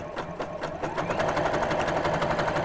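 A sewing machine runs a wide zigzag stitch at its maximum width of 7 while sewing a gift bag. It makes a steady, continuous whirring with a fast, even needle rhythm, close and alone.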